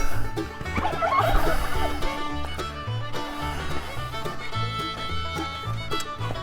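Farm ducks quack and cluck in a steady, busy chorus, close and fairly loud, blending with other barnyard fowl calls and outdoor background noise.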